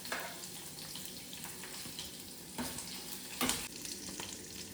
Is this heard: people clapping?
no